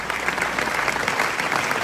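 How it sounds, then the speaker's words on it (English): A studio audience claps and applauds for a home show, a dense, even patter of many hands that runs without pause for about two seconds. "Love all that clapping."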